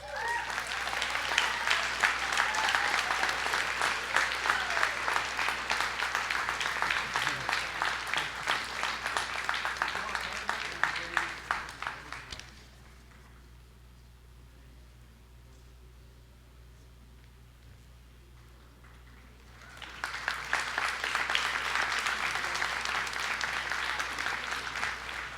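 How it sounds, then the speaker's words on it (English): Audience applause at the 2014 NSCC Marconi Campus convocation for an award winner: a long stretch of many hands clapping, then a quiet lull of room tone, then a second strong round of clapping. "give a round of applause for our major award winners"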